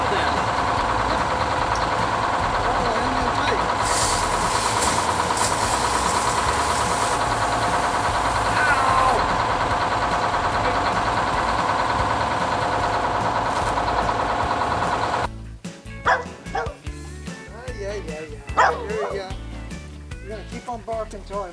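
Big-block V8 in an abandoned 1966 Chevy Biscayne idling on its first start in years, a steady loud rough rumble that runs and then cuts off, followed by people talking and a dog barking.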